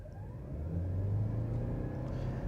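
A 2025 Subaru Forester Hybrid accelerates at full throttle, its engine rising in a smooth, moderately quiet drone heard from inside the cabin, with no talk.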